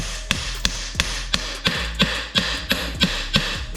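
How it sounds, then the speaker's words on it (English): A hammer taps a universal-joint bearing cap into the driveshaft flange of a 2003-2009 Toyota 4Runner 2WD, roughly nine sharp metallic knocks in a steady rhythm, close and distinct with no talking. "Get my hammer, just pat it in."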